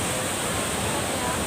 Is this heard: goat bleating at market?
no